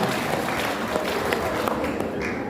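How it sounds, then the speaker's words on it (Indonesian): Steady audience applause fills a hall at a national working meeting of a Malay world organization, dense and continuous at moderate volume with no talking over it. "Tepuk tangan dulu Pak Ibu"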